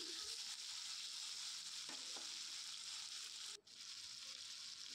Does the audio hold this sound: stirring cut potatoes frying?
yes